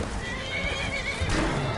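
Horse neighing in Skyrim, a whinny over steady game ambience with some hoof clip-clop, moderately close and short.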